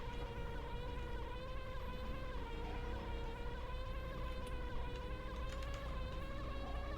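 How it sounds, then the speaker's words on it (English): Steady, droning insect buzz from bees in the Banjo-Kazooie video game, continuous and whiny over a busy game soundtrack, with no talking. "God, the bee noise."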